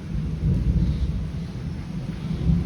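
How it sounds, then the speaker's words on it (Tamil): Steady heavy rain roars continuously over a main road in Virudhachalam, a dense low rumble with no voices, loud and close throughout. "நல்ல மழை"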